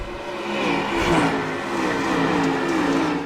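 Dirt track race cars roar around the track in a continuous, moderately distant engine drone that swells and eases slightly as they pass.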